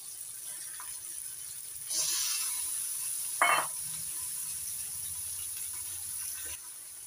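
Chicken mince hits a pan of fried onion and chopped tomato, a sudden sizzling hiss with a brief stirring scrape, then the frying settles into a steady low crackle.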